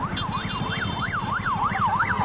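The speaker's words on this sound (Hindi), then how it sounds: "वहां पर सायरन की आवाजें सुनाई दे रही हैं" A wailing emergency siren in Lebanon rises and falls in a steady repeating cycle, with a rapid pulsing horn underneath and traffic noise around it.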